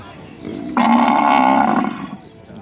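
A cow at a busy overnight cattle and buffalo market in Sikhoraphum, Surin, gives one long, loud, low moo lasting about a second, with faint crowd murmur around it.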